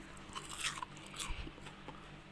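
Crispy fried cauliflower, coated in egg and fried with almost no oil, is crunched and chewed close to the mic in a few crisp bites.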